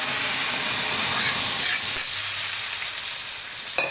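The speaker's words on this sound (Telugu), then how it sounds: "చూడండి పోపు వేగేసింది. ఇప్పుడు పులగూర వేసేస్తామండి." Gongura with raw cowpea seeds drops into a hot tempering, giving a loud, steady, close sizzle and hiss of frying that continues throughout with no talk.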